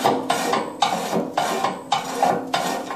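Shaker grate on a batch rocket hopper stove being worked back and forth by its handle, giving about five repeated metallic rasping scrapes in a steady rhythm, close and fairly loud, with no talking.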